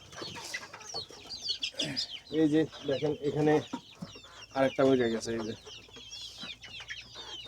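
Native chickens on a poultry farm cluck in short, close bursts, several rapid calls in a row, while someone talks over them.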